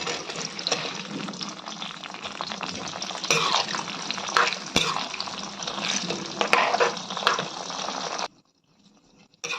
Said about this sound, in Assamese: তেলখিনি গৰম হৈ গৈছে, এতিয়া মই বগৰীকেইটা তেলত ঢালি দিম।